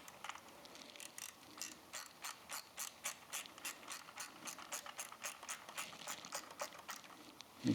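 A 4mm Allen key tightens a bolt on a Triumph Thruxton RS motorcycle, making a steady run of quick, evenly spaced ratcheting clicks that are close and fairly quiet, with no talking.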